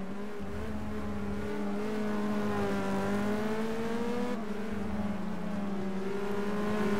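Race car engine from a racing video game at Zandvoort, a steady loud drone with rising and falling harmonic pitch sweeps through the clip, the car damaged and pulling left, with no talk.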